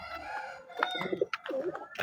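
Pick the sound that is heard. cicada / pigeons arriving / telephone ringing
pigeons arriving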